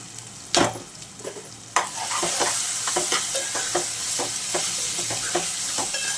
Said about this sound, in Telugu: ఉల్లిపాయలు అయితే బాగా ఫ్రై అయినాయి కదా